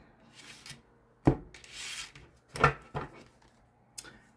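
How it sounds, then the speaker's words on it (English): Several quick riffling and rubbing bursts of tarot cards being shuffled, close by, with short pauses between the papery snaps. "I'm going to shuffle them really good."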